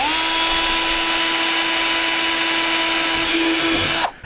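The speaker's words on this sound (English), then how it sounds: "We're going to take a small drill bit and we're going to drill our pilot hole right here." A small drill bit bores a pilot hole in a motorcycle tour trunk pack: a steady, loud, high-pitched power-drill whine held for about four seconds, then cut off abruptly.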